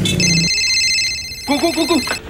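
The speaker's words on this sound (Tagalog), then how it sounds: "Ring ng cellphone ng hudyat na nagkaabutan na." A cellphone ringtone plays a short electronic melody, close and clear, in a news report about a drug buy-bust operation in Quezon City.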